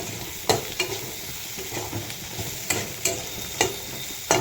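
Chilies and garlic fry in a pan with a soft steady sizzle, while sharp spatula knocks and scrapes land every second or so, close and without speech.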